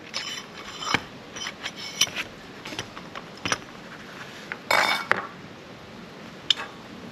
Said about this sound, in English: You start by putting on a cotter pin at the end of this, then a washer, a rocker,